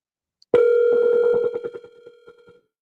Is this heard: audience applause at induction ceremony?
no